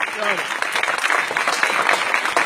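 An audience bursts into loud, continuous applause at a Punjabi speech gathering, thick overlapping claps filling the moment, with a brief voice cutting through right at the start.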